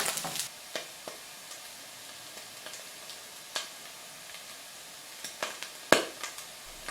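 Honey fungus mushrooms browning in a pan, scattered sharp pops and crackles over a faint quiet sizzle, irregular and sparse with one louder snap near the end.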